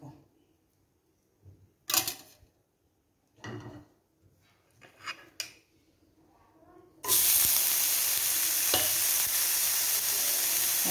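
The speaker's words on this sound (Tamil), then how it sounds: "இப்போ நம்ம வந்து அந்த கோவக்காய் இருக்கு இல்லையா அதை வதக்கிக்குவோம்." Ivy gourd (kovakkai) is stirred in a pan with a few scattered scrapes and clinks, then a loud, steady sizzle of sautéing takes over and continues to the end.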